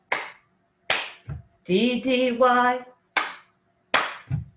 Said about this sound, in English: now we're going to clap 1, 2, 3 times